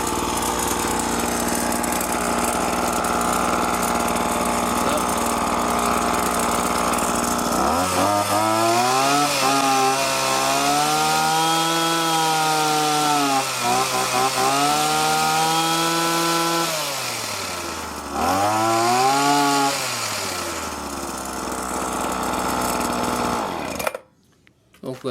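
A Silex TT-H340 petrol hedge trimmer runs close and loud after a new ignition coil is fitted, its two-stroke engine whining as it revs up and down several times before cutting off abruptly.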